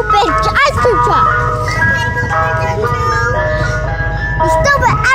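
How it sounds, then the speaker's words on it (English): An ice cream truck plays its loud, steady chiming jingle nearby, the melody continuing throughout while its engine rumbles underneath. "Boo, ice cream truck."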